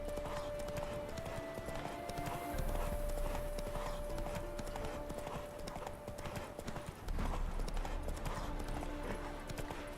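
Hooves of the horse Roach clip-clop at a steady walking rhythm in The Witcher 3: Hearts of Stone, close and continuous, with a sustained tonal hum of game ambience beneath.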